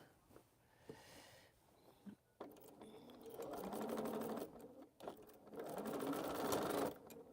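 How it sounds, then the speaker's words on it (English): A sewing machine stitches a quilt seam in close, loud bursts of rapid whirring, starting and stopping several times with short pauses between runs. "I just want to come over here and start this seam so I don't forget to reverse at the beginning"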